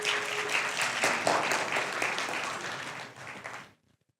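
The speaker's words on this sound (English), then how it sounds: "So a round of applause for those guys," Audience applause at a security conference talk, a dense wash of many hands clapping that holds steady and then tapers off to silence.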